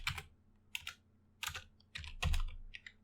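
Typing on a computer keyboard while writing Python code, several short bursts of close, crisp key clicks with irregular pauses between them, heard alone.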